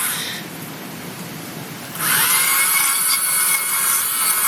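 A Dremel rotary tool carves a hardwood wood spirit wizard held in a vise. After a quiet start, the tool starts abruptly and keeps up a loud, steady high whine.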